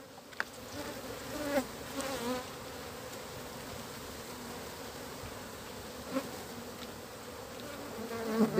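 Honey bees swarm around an opened beehive being prepared for honey production, giving a steady, dense buzzing drone that fills the whole stretch, with a few louder passes as single bees fly close.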